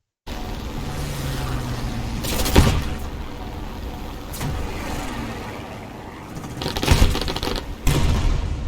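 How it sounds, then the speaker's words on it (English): A rocket fired from an aircraft at a T-34 tank in War Thunder air arcade, heard over a constant engine drone as a few sharp bursts and impacts, two louder ones near the end. "I'm going to fire another rocket at this T-34, and it's going to hit the front of it"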